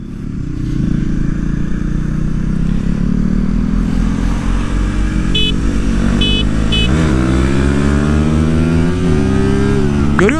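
A 250cc motorcycle, a KTM Duke 250 or Yamaha MT-25, accelerates hard in second gear during a race. A loud, continuous engine roar climbs steadily in pitch, briefly dipping and rising again near the end.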